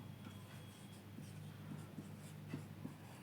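Faint scratching of chalk or pen writing on a board or paper during a maths lesson, short strokes in a quiet room.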